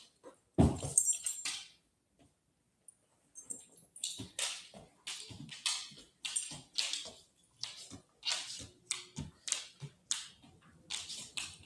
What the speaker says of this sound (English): My dog is apparently afraid of her reflection in the front window.